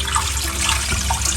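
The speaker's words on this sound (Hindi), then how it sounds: "अब इसमें हम पानी डाल देते हैं" Tap water pours steadily over a kilogram of frozen chicken in a vinegar wash, a close, continuous splashing rush with no pauses.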